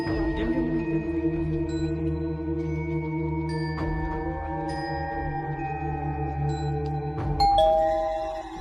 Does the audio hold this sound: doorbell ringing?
yes